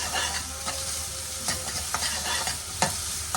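Onion frying in hot oil with mustard seeds, a close steady sizzle with several sharp stirring clatters and no speech.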